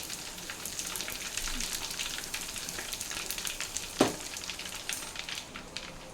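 Asafoetida sizzling in hot oil for mango pickle with ginger and garlic, a continuous crackling fry with dense pops, close and steady throughout.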